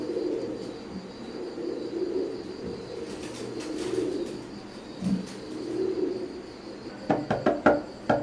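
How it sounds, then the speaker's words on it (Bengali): Black Horse pigeons coo close by in a low, repeated rolling pattern. Several sharp knocks and taps arrive near the end. "ভিউয়ার্স এখন স্ক্রিনে যে কবুতর দুটো দেখতে পারতেছেন ব্ল্যাক হর্সের বেবি"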